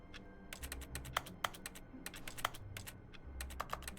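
Keyboard typing sounds from the video game The Stanley Parable: quick, irregular clusters of crisp key clicks, close and clear, with no talking.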